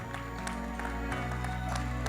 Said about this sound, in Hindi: अनुराग बासु साहब के लिए जोरदार तालियां हो जाए